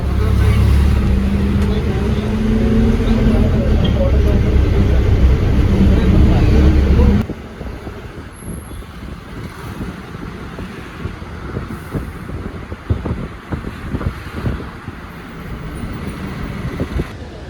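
A small bus rolls toward a petrol pump in Iritty, Kannur, its engine drone loud and close inside the cabin before dropping to a quieter idle with scattered rattles and knocks.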